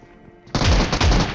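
An automatic gun fires in a shooting video game: after a brief lull, a loud, close burst of rapid shots lasts under a second.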